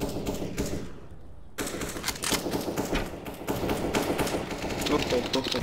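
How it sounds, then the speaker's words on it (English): Rapid automatic P90 gunfire in CS:GO rattles in dense continuous bursts, loud and close, with a brief pause near the start, over constant game noise. "They are firing at me."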